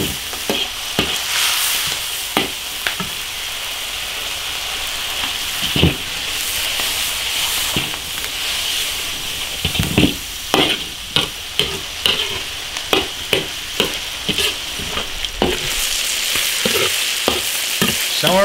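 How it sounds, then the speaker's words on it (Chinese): Ginger, garlic and doubanjiang fry in an iron wok for a rural-style braised crucian carp, giving a steady close sizzle broken by repeated sharp clacks and scrapes of stirring, with no voices. "把调料都给它煎香"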